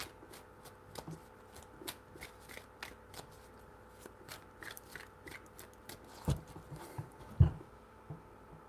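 Close, crisp riffles and taps of cards being shuffled in several bursts, with a couple of soft thumps as the deck is squared, no talking.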